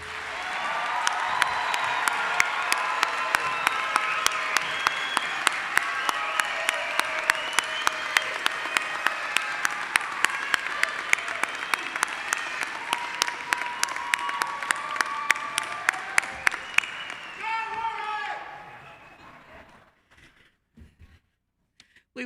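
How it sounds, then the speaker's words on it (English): Sustained, dense applause from a large commencement audience honoring graduates, steady and loud for about seventeen seconds before tapering off into scattered claps and quiet. "let's give our graduates one final round of applause"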